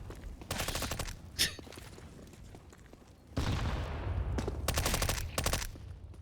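MAC-10 and MP5 submachine guns in a competitive shooter video game firing in rapid bursts, several sharp rattling volleys separated by short pauses, loud and close.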